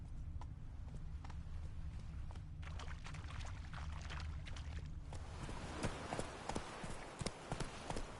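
The horse Roach from The Witcher 3 gallops with rhythmic hoofbeats under a low rumbling game ambience. Sharper, more scattered clip-clop impacts take over in the latter half.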